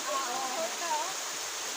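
A natural spring that serves as a drinking water source in San Benito, Calatrava, flows with a steady, rushing wash of water, and a voice speaks faintly over it.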